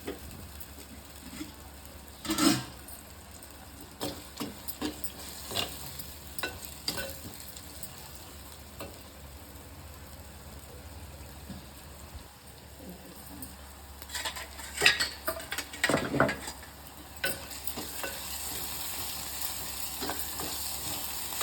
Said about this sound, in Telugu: ఇదిగోండి వేగింది సొరచేప